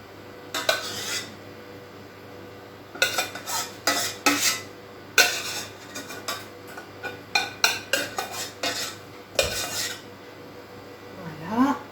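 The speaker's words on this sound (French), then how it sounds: "ma sauce béchamel que je vais renverser dans le plat afin que cette sauce recouvre la patate" Béchamel sauce spooned and scraped out of a pan over sweet potatoes in a gratin dish: close, irregular bursts of utensil clinks and rasping scrapes against cookware, with quiet pauses between.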